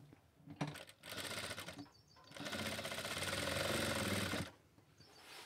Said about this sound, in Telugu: ఈ రెండింటిని మనం ఇలా అనుకుంటూ స్టిచ్చింగ్ చేసేసుకోవాలి